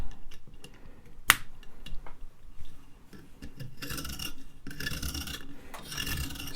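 A serrated knife rasping on a 600 grit sharpening stone, with short scraping strokes at first, then longer, louder bursts of grinding, plus a sharp click near the start and no talk.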